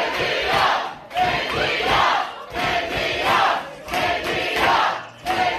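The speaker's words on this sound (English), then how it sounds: "This is the crowd over some of the returns." A large election-night crowd at a socialist mayoral race in Buffalo cheers and shouts in loud, rolling waves that swell and dip every second or so, close and continuous.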